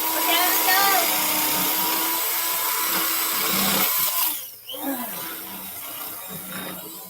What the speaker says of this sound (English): I'll just drill holes where we want them